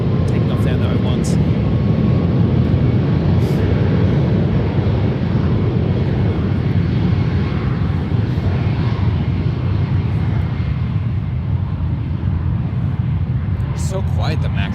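An Alaska Airlines Boeing 737 MAX takes off from runway 01 at San Francisco International Airport, heard from a distance as a steady, broad engine roar that holds throughout with light background noise.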